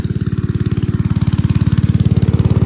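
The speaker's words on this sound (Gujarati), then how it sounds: "અહીંયાથી પાણી સપ્લાય થાય છે મશીન ખેંચે છે" An engine-driven water pump runs on a farm, drawing water for field irrigation with a steady, rapid thumping beat that stays close and continuous throughout, with no talking.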